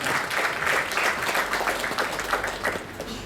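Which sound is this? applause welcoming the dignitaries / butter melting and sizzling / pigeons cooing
applause welcoming the dignitaries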